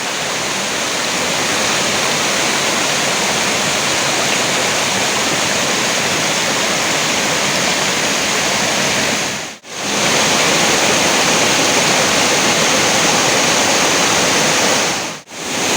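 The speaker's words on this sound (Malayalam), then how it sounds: "ഇതിലൂടെ ആ ഒഴുകി വരണ വെള്ളം പതഞ്ഞ് വീണ്ടും മുന്നോട്ട് പോകുന്നത് നമുക്ക് കാണാം." Rushing water at Choriyankunnu waterfall, a loud steady broadband roar of water foaming and flowing onward, continuous throughout with two very brief dropouts and no voices.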